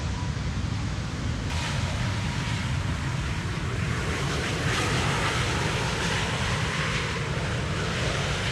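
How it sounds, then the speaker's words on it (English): Finnair Airbus A350 jet arriving from Helsinki on Schiphol's Polderbaan runway 18R, a steady broadband engine roar with rushing wind noise that swells slightly midway and holds throughout. "the first airplane of today's show is going to be the Finnair A350 arriving from bloody Helsinki, Finland"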